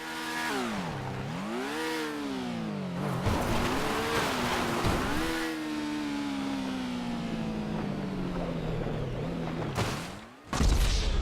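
Pegassi FCR 1000 Custom motorcycle ridden off-road in GTA, its engine whining loudly and steadily with revs rising and dropping as the rider shifts, ending in a sudden crash-like thump.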